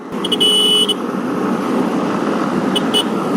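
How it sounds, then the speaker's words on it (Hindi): A thin, high-pitched horn on a motorbike beeps, first a longer honk, then a couple of quick short ones, over steady traffic rumble. "मेरे को ना ये हॉर्न चेंज करना है यार"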